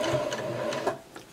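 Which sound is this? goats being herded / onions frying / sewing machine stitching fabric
sewing machine stitching fabric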